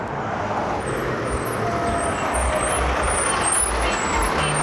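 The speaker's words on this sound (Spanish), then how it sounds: "Este es el autobús que vamos a agarrar." A city bus pulls up on an Acapulco street, its heavy engine rumbling close by with a brief hiss of air brakes amid steady traffic noise.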